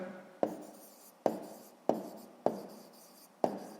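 A pen or chalk writes out a sixth-grade maths solution in five distinct, evenly spaced strokes, each one a sharp tap that fades into a scratchy scrape, close and fairly quiet with no talking.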